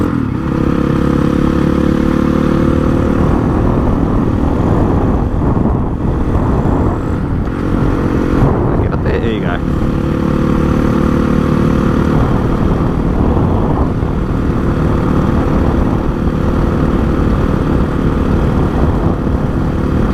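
A Honda CRF 450 dirt bike engine roars continuously while being ridden, a loud, steady, rough drone held on the throttle for the whole stretch with slight rises and dips in revs.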